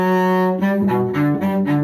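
A cello plays measures 13-16 of the Suzuki Book 2 Theme From Witches Dance, a steady melodic phrase of bowed notes shifting in pitch, close and loud with no talking.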